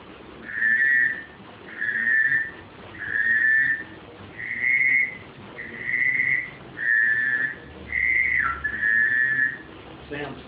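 A duck call whistle gives a run of eight evenly spaced, high, trilling whistle notes, each about a second long, imitating pintail, widgeon and mallard drake calls, loud and close with no talking.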